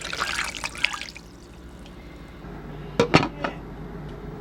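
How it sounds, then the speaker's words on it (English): Chicken broth poured over chicken in a crock pot makes a soft trickling, splashing pour that fades. A few sharp clinks of a can or metal against the pot follow later. "Pour your broth over top of your chicken"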